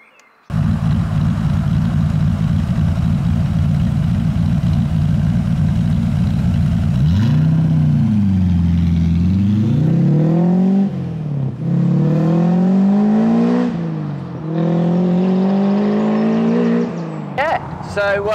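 A Rover V8 engine in a Westfield car with an RPi Engineering upgrade idles with a deep burble, then revs and pulls through repeated rising and falling gear sweeps while driving, loud and close, with people talking over it.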